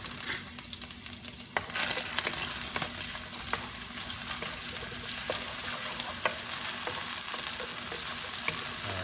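Garlic frying in a pan for Mongolian beef gives a dense, continuous sizzle with a few sharp crackles and light stirring taps, close and steady throughout.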